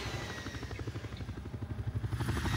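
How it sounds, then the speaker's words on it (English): Helicopter in the James Bond game From Russia with Love, a steady rapid rotor thumping with low engine drone that stays loud and even throughout. "I hear a helicopter."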